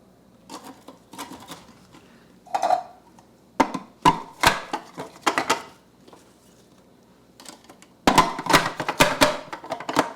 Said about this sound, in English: I'm going to go ahead and add in some of my bacon and chop that in here with it